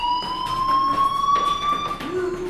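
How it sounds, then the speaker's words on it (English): A steady electronic fire alarm tone rings throughout a scene in the video game Life Is Strange, a sustained loud pitched whine with a slight rise and pulsing beats, under a faint background voice. "Hey, do you hear that fire alarm?"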